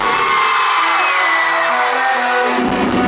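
A concert crowd shouting and cheering with hands raised at a show: a loud, dense roar of many voices held for the whole moment, with a rising whoop near the end.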